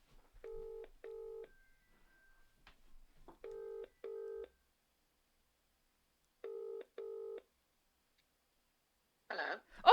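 Telephone keypad tones beep in short paired bursts as a number is dialed on speakerphone, quiet and separated by pauses, ending with a brief burst of noise.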